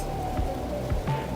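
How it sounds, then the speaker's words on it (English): Rain falling at Iguaçu Falls in Brazil, a steady soft patter of drops on surfaces with a few heavier splats, close and continuous. "Unfortunately, it's raining"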